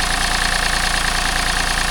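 A diesel car engine idles steadily with the bonnet open, a loud, close, even rumble with a regular low pulse and no talk over it.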